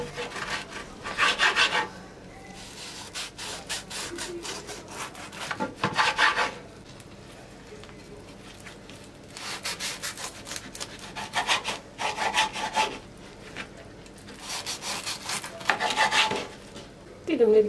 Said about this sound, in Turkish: rahat kesebilmek için parmak aralıklarla kesiyorum